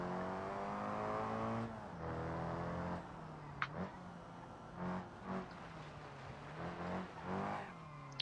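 Simulated car engine in BeamNG.drive, a rear-wheel-drive car revving up through gears, steady harmonic drone rising and dropping at shifts, with short bursts and a sharp click, close and continuous with no talk.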